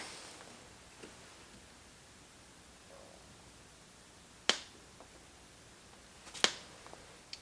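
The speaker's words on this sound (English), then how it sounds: "You're hearing clicking, I don't know why." Clicking from a Star-Lite 196 vacuum tube radio under repair as its voltage is raised toward 140 volts: two sharp, isolated clicks several seconds apart, with a couple of fainter ticks, over a quiet background hiss.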